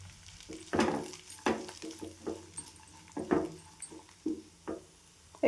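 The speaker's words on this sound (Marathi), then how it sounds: "दोन्ही पण मिक्स करायचं. आणि छान भाजून घ्यायचं." Matar thecha, a coarse green pea and chilli mash, being dry-roasted and stirred in a pan, with scraping strokes at irregular intervals over a soft sizzle, close and fairly quiet.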